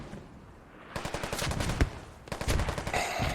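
Gunfire in a competitive online shooter match rattles off in rapid bursts, with a stretch of fast automatic fire, a brief lull, then another loud burst, close and harsh.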